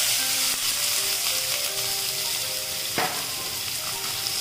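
Chopped onions sizzle and fry steadily in cooked masala for Punjabi-style rajma, with a brief clatter of stirring partway through, close and continuous with no talking.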